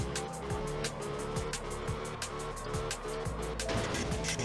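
Engine whine and screeching tires from a car drifting along a fence in the video game Absolute Drift, a continuous loud revving drone with repeated skid squeals and rhythmic gear pulses, no talking over it.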